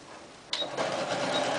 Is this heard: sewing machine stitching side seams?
yes